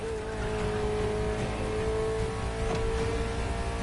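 Ferrari sports car engine in The Crew Motorfest racing game, a steady, loud droning hum holding a constant pitch for a few seconds, close and continuous with no talking.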